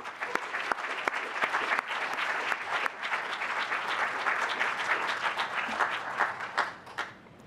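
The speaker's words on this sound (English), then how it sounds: "Give tonight's sponsors a big round of applause" Sustained audience applause at an awards ceremony, dense clapping from a large crowd holding steady throughout, loud and close, with no talk over it.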